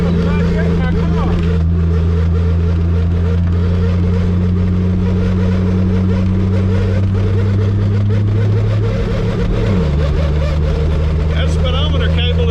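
A 1959 Edsel Ranger drives down a dirt road toward a mud hole, its engine a loud, steady low drone that dips in pitch near the end, with voices talking over it throughout.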